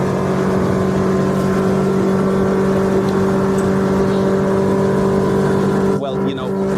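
A Honda 130hp outboard on a Saver 620 Cabin motorboat roars steadily at full throttle, around 5,900 RPM, loud and close, with rushing water and wind noise around it.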